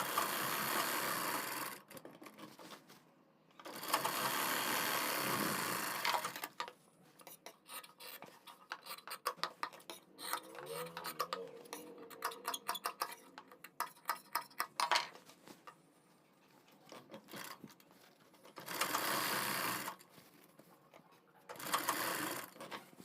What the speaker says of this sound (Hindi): अब हम एक सिलाई लगाएंगे अपने नेक के बराबर में